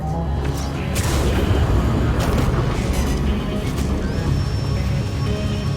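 Missiles launched at a Cutlass Black ship during space combat in Star Citizen, heard as a loud, dense rumbling roar of engines and booming blasts that sustains throughout with a rising whine near the end.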